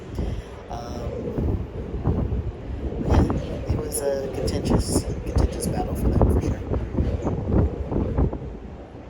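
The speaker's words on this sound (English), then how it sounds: "the wind is whipping up out here" Gusty wind buffets the microphone in low rumbling bursts while a person keeps talking over it.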